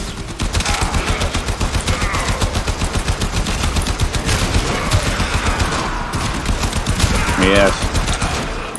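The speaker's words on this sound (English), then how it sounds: "Unfortunately for you, I have mastered the shotgun point-blank technique." Shotgun blasts at point-blank range in the video game Warframe, a loud, rapid and continuous barrage of gunfire with a voice talking over it.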